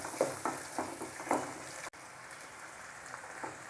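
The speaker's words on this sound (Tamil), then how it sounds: "உப்பு சேர்த்து வதக்கினேன்னா தக்காளி சீக்கிரம் மசிஞ்சிரும்." Tomatoes and cashews with salt sauté in a pan, giving a steady soft sizzle with a few light stirring scrapes near the start, faint and close.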